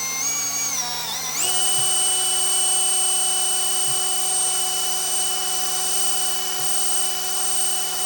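A power drill whines loudly and steadily at a high pitch as it drills through metal, its tone jumping up once as it bites in, with faint low knocks underneath.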